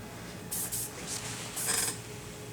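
Several short hissing sprays of hairspray on hair close to the microphone, section by section, a few quick puffs in a row, then one longer burst.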